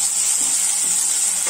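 Onions and tomatoes fry in a pan for Kerala-style arachuvitta sambar, giving a steady, close, bright sizzle that runs unbroken throughout, with a few soft stirring scrapes underneath and no talking.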